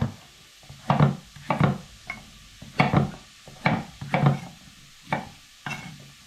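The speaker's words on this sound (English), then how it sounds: "just use a spoon to get the seeds out of this" A spoon scraping seeds out of a pumpkin, with about eight or nine close scraping strokes at an irregular rhythm, loud against a quiet kitchen.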